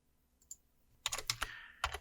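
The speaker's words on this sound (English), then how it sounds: "I'm just typing it without seeing" Soft clicks of computer keyboard keys being typed, a couple of faint taps and then a quick cluster of louder keystrokes close by in a quiet room.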